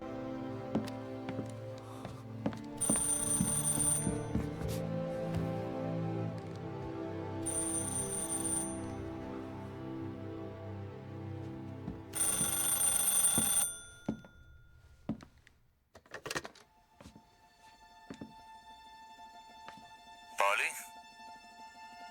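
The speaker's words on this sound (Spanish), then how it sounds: "En ese instante suena el teléfono." Repeated bursts of a telephone bell ringing in the game Mafia Definitive Edition, loud against a background music score, with later clicks and brief voices.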